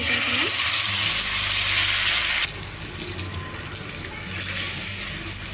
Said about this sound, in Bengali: তেলটা গরম হলে ম্যারিনেট করা মাংসটা দিয়ে